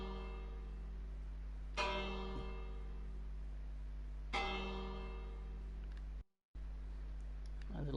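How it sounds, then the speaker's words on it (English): A working church bell in the Minecraft video game rings twice, each a bright metallic strike with a long ringing decay, spaced a couple of seconds apart over a steady low hum. "This bell actually works."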